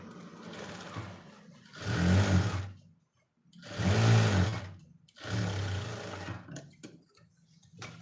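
A sewing machine stitches the sleeve of a katori blouse in three loud, steady bursts of rapid mechanical whirring, separated by short pauses and brief quiet handling.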